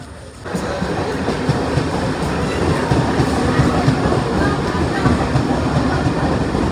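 A commuter train runs toward Kalyan station, its wheels rumbling and clattering in a steady rhythmic clickety-clack heard from inside the carriage, loud and continuous after a brief quieter start.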